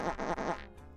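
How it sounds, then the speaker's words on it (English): Cartoonish fart sound effect played as a stream alert, several rapid sputtering bursts in quick succession before trailing off, loud and close. "Double fart. Double fart!"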